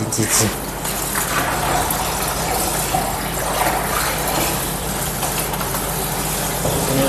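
Steady rushing water runs continuously, like a tap filling a bath for a Shih Tzu's first bath, loud and close throughout with a low mechanical hum underneath.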